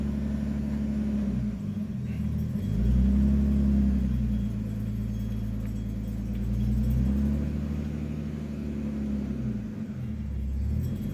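A 1991 Nissan Skyline rolls slowly under its own power, its engine rumbling low and close, rising and falling in pitch with gentle throttle changes, with no talking.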